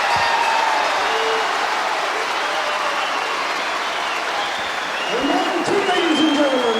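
A British professional wrestling crowd from the late 1970s bursts into sustained applause and cheering right after a first fall, a dense, loud, continuous roar that swells again near the end, with a voice faintly over it.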